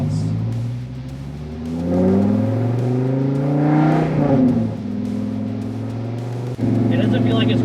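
A Dodge Viper with freshly changed fluids and new wheel bearings drives along, its engine rising and falling through revs with a loud, steady cabin rumble and wind noise.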